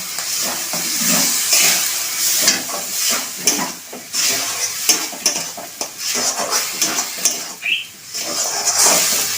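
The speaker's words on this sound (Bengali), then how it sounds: "এবার এটা আমি নাড়তে থাকবো।" A spoon stirs ridge gourd peel paste in a hot pan, scraping and tapping against the metal with a soft sizzle underneath, steady and close throughout with no voices.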